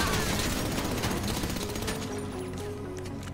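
Gunfire from a shootout in GTA V Online, a dense fusillade of rapid shots at steady loudness through the whole stretch, with no talking over it.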